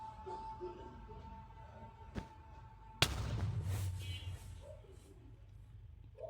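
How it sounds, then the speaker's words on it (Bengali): A fireball shot in a Minecraft Bedwars match, heard as a single sharp burst that flares loud and then trails into a rumbling fade over a noisy game background. "ও ভাই ও ফায়ার বল মারতেছে"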